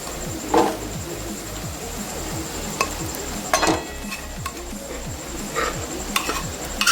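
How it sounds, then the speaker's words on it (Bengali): Boiled mung dal added to fried, oil-releasing spices in a pan for dal tadka, with soft scraping, a few clinks and low sizzling against a faint steady background whine. "এই পর্যায়ে অ্যাড করে দিচ্ছি সিদ্ধ করে রাখা মুগ ডাল"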